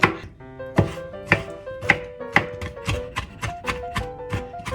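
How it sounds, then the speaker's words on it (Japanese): A whole tomato, skin on, being minced finely with a knife on a cutting board: about a dozen crisp, evenly paced chops, close and clear, each with a slight ringing knock. "ザクザクこう切ってっちゃって、細かくね、みじんにしちゃう。"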